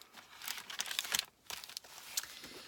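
Tracing paper handled inside a vintage-style Christmas journal, giving close, crisp crinkling and rustling in several quick bursts with a brief pause midway.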